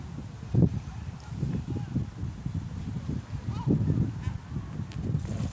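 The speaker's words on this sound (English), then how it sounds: "one of the ducks has hopped out of the water" Ducks beside the water on a sunny holiday give low, faint honking calls scattered through the stretch, heard over outdoor background noise while a person talks nearby.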